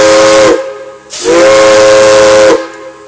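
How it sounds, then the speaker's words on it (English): A loud steam whistle of PRR 653 locomotive, heard from the cab, sounds twice: a long blast, a brief pause, then a second, longer blast, each fading out into quiet hiss. "Toot-toots on your whistle."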